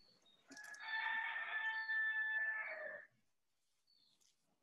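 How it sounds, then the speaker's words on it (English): A single rooster crows once, a loud drawn-out call of about two and a half seconds heard clearly on its own, followed by quiet. "Who's got the rooster?"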